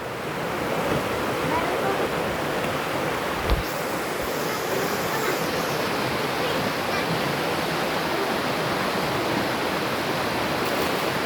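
Spring water flows near a river in a constant, dense, rushing wash that stays close and loud throughout, with one brief knock partway through.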